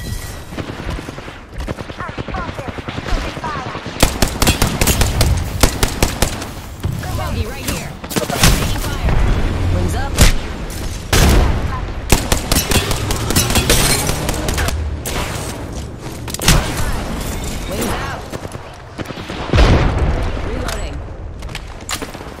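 Loud, close bursts of automatic gunfire and rapid volleys in an Apex Legends ranked match, with dense rattling shots through most of the stretch. A voice speaks in places over the shooting.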